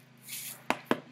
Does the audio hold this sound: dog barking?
no